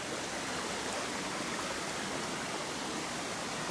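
Small spring of water flows at a rest stop on the Ieriķi mill trail in Latvia, giving a steady, even, close trickling rush throughout with no voices.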